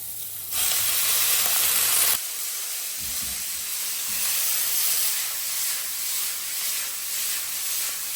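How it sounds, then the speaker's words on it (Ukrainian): Minced meat hitting hot, lightly smoking oil in a frying pan, a loud hissing sizzle that settles into a steady, continuous fry with no voices. "Сюди обов'язково додаємо олії трішки і додаємо сюди фарш."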